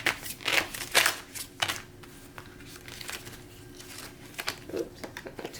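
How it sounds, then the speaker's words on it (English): Crisp riffling and flicking of playing cards being shuffled, several bursts in the first half then softer papery rustles, close and moderately quiet, no talking. "Let's finally shuffle cards."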